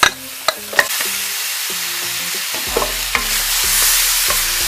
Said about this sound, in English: So to mix the aromatics with the pork ribs, and let it cook until the color changes.